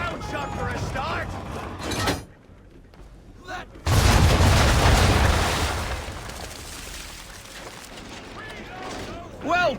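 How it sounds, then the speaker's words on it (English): Ship cannons in Assassin's Creed III fire round shot in a broadside, giving loud booming volleys with rumbling tails. The volleys come out of a noisy naval battle, with voices heard around them. "Bring her round broadside, and when all guns are on target, call fire. Round shot for a start!"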